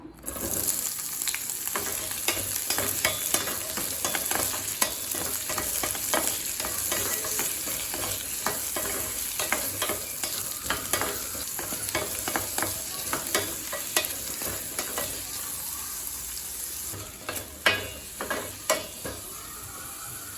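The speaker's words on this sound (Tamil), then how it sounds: "வெங்காயத்தை நல்லா வதக்கியாச்சுங்க" Onions sautéing in a pan for onion chutney, a steady close sizzle punctuated by frequent rhythmic scrapes and taps of stirring, with a few sharper knocks near the end.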